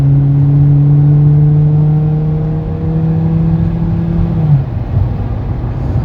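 A car on the freeway drones loudly under hard acceleration, its engine holding a steady, strained hum that drops slightly in pitch toward the end, with no talking.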